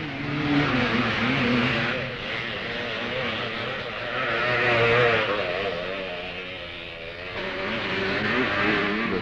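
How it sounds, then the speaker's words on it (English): Motocross motorcycles, among them a Husqvarna, race at a 1970 Grand Prix on a sand and gravel circuit in Finland. Loud engines drone and rev in overlapping waves as the bikes pass fairly close. "Finland's Mikkola is riding a Husqvarna"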